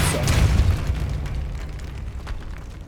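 A deep boom bursts out and rumbles away over about three seconds as the Depulso spell goes off in Hogwarts Legacy, with a low roar that tails off into a quieter rushing wash.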